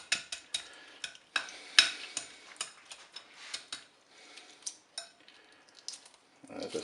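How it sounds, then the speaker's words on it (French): Hard-boiled eggs being peeled by hand, with a run of small, close, crisp clicks and taps of cracking shell in an uneven rhythm, no talking. "on va pouvoir écaler nos œufs"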